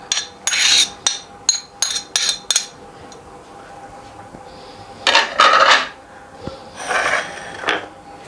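Three medium onions are tipped into a pot for beef boneless karahi. Several sharp clinks and knocks of a utensil come first, then broader rustling bursts as the onions drop in, all fairly close and loud.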